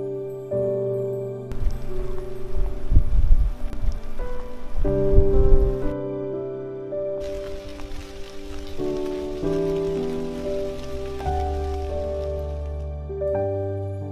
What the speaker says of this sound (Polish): złapał nas kompletny deszcz